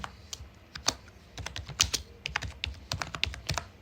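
Code is typed on a computer keyboard in quick, irregular runs of crisp clicks, close and moderately loud, with occasional heavier keystrokes and no talking.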